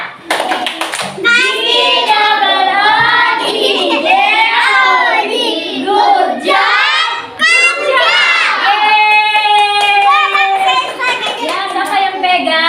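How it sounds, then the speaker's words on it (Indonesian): Young schoolchildren in a first-grade classroom chant together in loud sing-song voices while clapping in rhythm, a close, boisterous group performance with pitched shouting over the claps. "beri tepuk gujok untuk kelompoknya Reski, Afif, dan Arfan"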